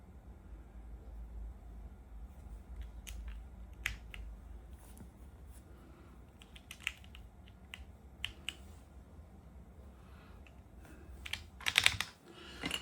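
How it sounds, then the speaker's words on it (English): Keycaps are pressed back onto a Drop CSTM65 mechanical keyboard, giving scattered sharp clicks and snaps at irregular intervals over a low steady room hum, with a quick cluster of louder clicks near the end. "So we're gonna put our keys back on."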